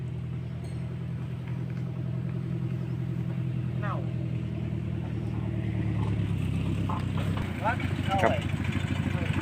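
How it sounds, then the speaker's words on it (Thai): A pickup truck comes up behind on a rural Thai road. Its engine rumbles steadily and grows a little louder as it nears, under someone talking. "ตอนนี้ก็รถ กระบะก็ตามมาเลยนะครับ"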